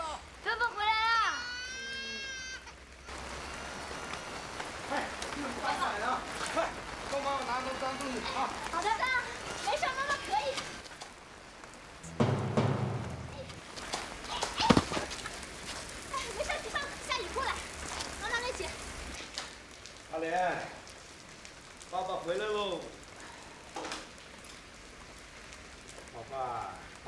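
Steady rain falls through a drama flashback scene, a soft wash of rainfall running beneath children's voices, playful chatter and adult talk throughout.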